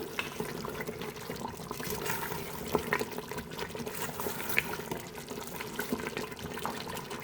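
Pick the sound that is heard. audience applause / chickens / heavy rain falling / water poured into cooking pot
water poured into cooking pot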